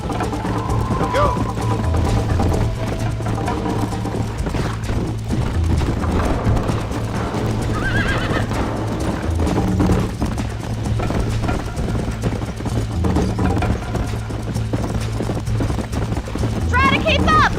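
In Red Dead Redemption, hooves drum in a rapid, steady gallop under loud game music and in-game character voices.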